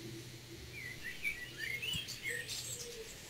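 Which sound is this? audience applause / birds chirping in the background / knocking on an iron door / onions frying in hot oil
birds chirping in the background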